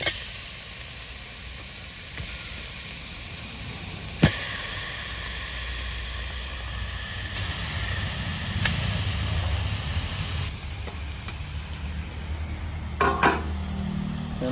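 Chicken pieces added to masala in a pan for Kerala chicken roast, with a steady sizzling hiss throughout and occasional sharp clinks of a utensil against the pan, close and even.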